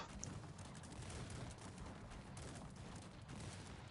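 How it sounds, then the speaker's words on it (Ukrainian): Musket volley gunfire rattles in the strategy video game Cossacks 3 as a dense, continuous crackle of massed shots over a battlefield, with no talk. "Так, хороший залп."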